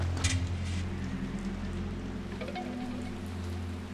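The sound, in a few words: rain in a video game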